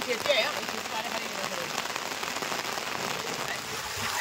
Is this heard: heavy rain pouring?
yes